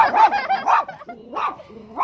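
A puppy gives a few high, yappy barks in quick bursts, close by, with brief pauses between them.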